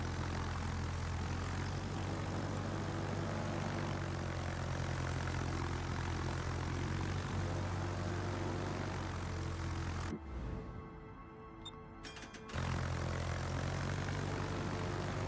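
Droning propeller engines of torpedo bomber aircraft in the naval game World of Warships, a loud steady buzzing hum that cuts out briefly for a couple of seconds and then resumes, with no voices.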